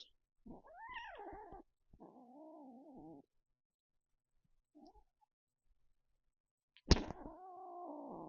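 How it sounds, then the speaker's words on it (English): An agitated cat lets out long, wavering yowls and caterwauls with quiet gaps between them, ending in a sharp loud cry followed by another drawn-out wail. "my cat is tweaking"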